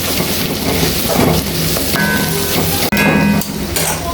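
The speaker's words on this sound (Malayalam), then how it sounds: "കുറച്ച് വെളുത്തുള്ളി ചതച്ചതും ഇട്ട് കൊടുക്കും. നന്നായി വഴറ്റിയെടുക്കാം" Crushed ginger and garlic sauté in a hot pan, a loud, dense sizzle running throughout with brief scraping and stirring noises and one sharp break partway through.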